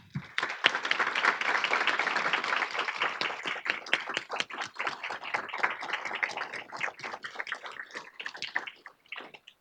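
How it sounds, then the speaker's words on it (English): Audience applause for a planning committee standing at a storytelling event, a dense burst of clapping that thins to scattered individual claps and fades near the end. "we'll give you a well-deserved round of applause"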